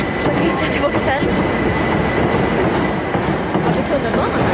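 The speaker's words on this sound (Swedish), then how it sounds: "Nu sitter vi på tåg i en timme tid" Passengers riding a train in London hear a steady, loud rumble of wheels and carriage noise throughout, with faint rhythmic clicks and rattles and no clear speech.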